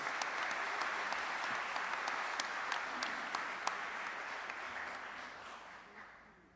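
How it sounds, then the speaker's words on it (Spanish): An audience applauds at a tribute held in the Buenos Aires city legislature, a steady crowd of clapping hands with sharper individual claps standing out, fairly distant and fading gradually toward the end. "Un fuerte aplauso para los compañeros de ATE, para Adriana"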